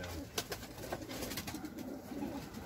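Pigeons in a coop, their cooing blending into a dense, continuous wash of bird sound with soft flutters, steady and fairly close throughout, with no speech.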